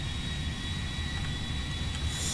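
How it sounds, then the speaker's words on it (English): Jumbo jet engine in GTA V, a steady loud roar with broad rumbling low end and a high whine, continuous throughout with no talk. "I can't fly this plane"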